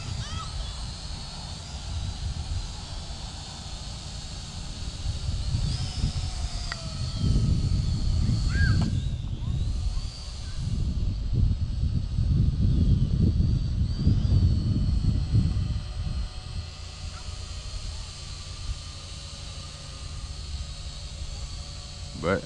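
An Eachine E511 camera drone on its first test flight in gusty wind, with a thin, steady motor whine hanging overhead while low wind rumble swells and fades across the middle.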